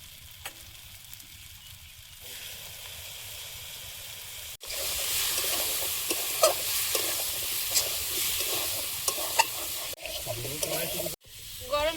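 Spice paste tipped into a hot pan erupts into a loud, hissing sizzle and keeps crackling while it is stirred. A quieter stretch comes before it, and a few brief pauses and scrapes follow. Close by, with no talking.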